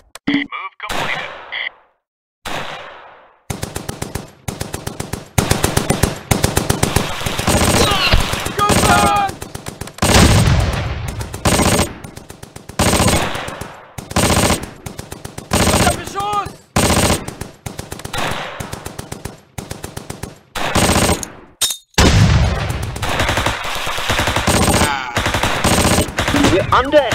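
Sustained machine gun fire in a video game battle rattles in long, loud bursts with short gaps, mixed with single gunshots and heavier blasts, continuing almost without pause.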